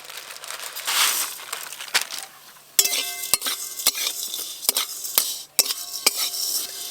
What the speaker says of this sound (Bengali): ঘি গরম হয়ে গেছে, এবার আমি সিমইগুলো ভেজে নেব ঘি দিয়ে।